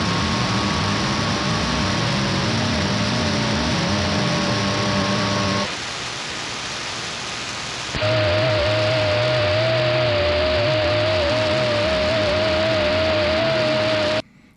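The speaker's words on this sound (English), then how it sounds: "typically what you've heard is FT8. It's an amateur radio weak signal digital mode" FT8 amateur radio weak-signal digital mode received on a radio in AM mode, a dense continuous static-like hiss with steady tonal lines, briefly dropping quieter in the middle before resuming at full level.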